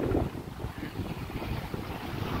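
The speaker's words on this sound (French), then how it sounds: "Ah, ça monte le vent." Wind rises on a sailboat during an ocean crossing, a steady broad rushing with microphone buffeting and water noise throughout, close and continuous.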